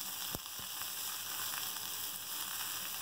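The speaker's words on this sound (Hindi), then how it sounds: "फ्राई करेंगे।" Chopped onion sizzles and fries in two tablespoons of hot oil in a pan, a steady close crackle with a few sharper pops, and no talking.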